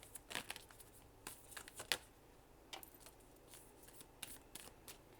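Tarot cards are shuffled quietly by hand, with soft irregular riffles and flicks scattered throughout and no talking.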